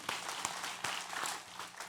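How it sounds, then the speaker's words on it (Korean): Soft, distant applause from a congregation during a Sunday church service rises briefly in scattered claps, without any talking. "영광의 박수를 하나님께 드리도록 하겠습니다"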